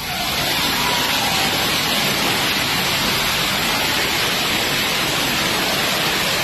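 Heavy monsoon rain pours off the roof of the ancient Uma Maheshwara temple dedicated to Shiva, a loud, dense, continuous rushing wash of water with no voices.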